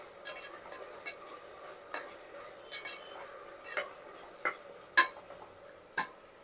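Tomatoes and onions sauté in a pan under a soft background sizzle, punctuated by about a dozen sharp spoon clinks and scrapes against the metal at irregular intervals, close and moderately quiet.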